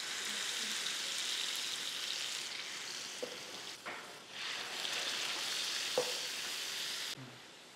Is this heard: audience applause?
no